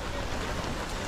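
Heavy rain pours in a dense, steady roar close by on a stormy night.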